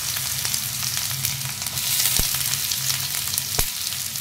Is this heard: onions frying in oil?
yes